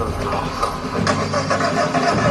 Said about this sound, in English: drive circuits on, flux capacitor, fluxing, engine running